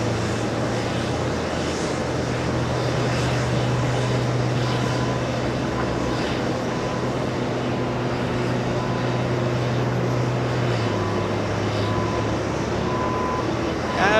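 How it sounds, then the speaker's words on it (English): A Virgin Atlantic airliner pushes back at JFK airport, a steady low engine and tug drone holding loud and near for most of the stretch before dropping in pitch, with faint airport noise around it. "We're gonna pan the camera to Virgin Atlantic, currently pushing back right next to us."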